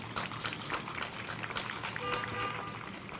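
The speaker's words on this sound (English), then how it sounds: "I believe that calls for a round of applause." Audience at a college graduation ceremony applauds, a steady dense patter of many hands clapping that fills the whole moment at moderate distance.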